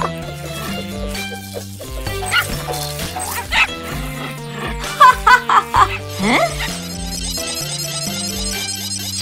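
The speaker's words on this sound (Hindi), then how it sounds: "बदमाश कुत्ता" A cartoon dog barking in an animated show about animals and trucks, a quick run of sharp yips and barks set over bouncy background music, with a bit of laughter nearby.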